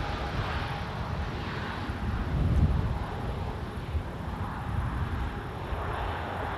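A Boeing Dreamliner landing at Amsterdam Schiphol on the Polderbaan runway, its thrust reversers producing a broad distant roar that swells briefly midway, with wind rumbling on the microphone and no talk.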